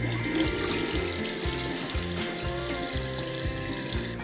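Tap water runs steadily from a faucet into a sink in a campground restroom at Burro Creek Campground in Arizona, a continuous close hiss and splash with no talking.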